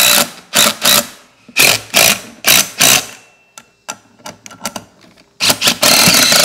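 A small impact wrench loosens a tire wheel in loud, close bursts of rattling hammering, several short runs separated by pauses and light clicks, ending in a sustained buzz.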